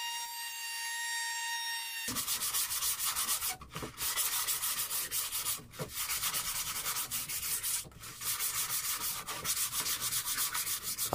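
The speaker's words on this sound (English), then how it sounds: "I give the round over a quick hand sand with 120 grit just to smooth it over." Hand sanding a routed round-over edge on a pallet wood wine and glass holder with 120 grit sandpaper, a steady close rasping scrub with brief pauses between strokes, no talk.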